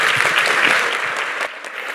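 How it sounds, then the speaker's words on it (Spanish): An audience at an education panel on climate resilience claps for the panelists in a short, full burst of close, bright applause that thins slightly near the end. "Un aplauso."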